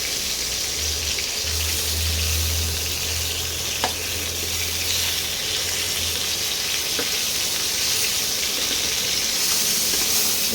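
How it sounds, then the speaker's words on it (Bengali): Chicken pieces frying in a pan give a steady, close sizzle throughout, with a low hum in the first half and a couple of faint clicks, and no one speaking. "আমি ভেজে নিচ্ছি।"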